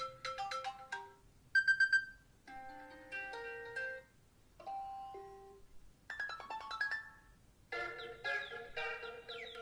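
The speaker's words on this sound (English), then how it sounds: "Yes, you do get all of the new ringtones here as well." Several iOS 7 iPhone ringtones follow one another: short bright electronic melodies, plucked and chiming, each lasting a second or two with quiet gaps between, heard alone at moderate loudness.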